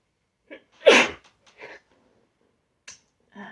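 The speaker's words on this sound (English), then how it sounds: "I feel like I'm going to sneeze." One sharp, close sneeze bursts out after a couple of short breaths, followed by faint sniffs in an otherwise quiet space.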